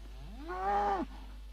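A single cow on a state farm gives one clear, drawn-out moo, rising then falling, close and alone against a quiet background.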